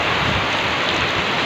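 Heavy rain pours steadily on surfaces during a downpour in Norzagaray, Bulacan, a loud, dense, continuous hiss with no voices.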